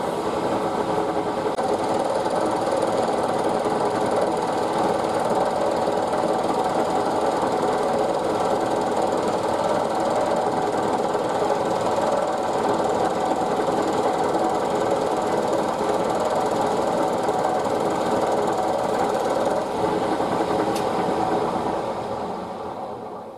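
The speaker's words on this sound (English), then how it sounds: "Chatter on that, which I'm not surprised really. It's sticking up quite high and I'm taking quite a wide cut." A milling machine takes a wide half-millimetre-deep cut on a tall WW2 bracket in a horizontal fixture plate, with a steady, loud, continuous grinding whir and buzzing chatter throughout, no talk.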